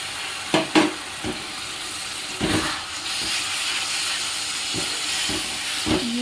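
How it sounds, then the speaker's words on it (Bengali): Spices for mutton curry, with green chillies, Kashmiri chillies, turmeric and salt, frying in a pan. A steady hiss and sizzle sits under a few sharp scraping stirs, heard close with no talk. "ভালো করে মশলাটা ভেজে নেব"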